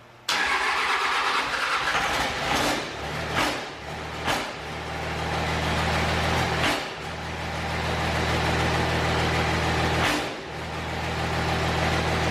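A 6.0 truck engine cranks, catches and settles into a loud, steady running rumble nearby, with a few sharp clunks and dips in the drone along the way.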